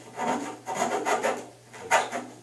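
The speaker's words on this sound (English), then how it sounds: "what I'm doing here is filing the covering off." A file rasps the covering off the wing mount of a Kadet LT-40 model airplane in several short back-and-forth strokes, close up, with brief pauses between them.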